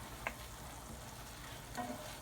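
Mushrooms cooking in a pan over a flame, with wine simmering off, give a faint, steady hiss of sizzling throughout, touched by a couple of soft clinks.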